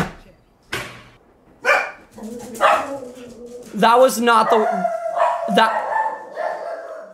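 Pet dogs bark indoors in a house, several loud sharp barks and yips bursting in close by, with people talking over and between them.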